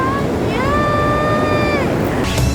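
Ocean waves wash steadily onto a beach in Kamakura, Japan, a continuous broad hiss of surf and wind, with a clear high whistling tone rising over it for about a second.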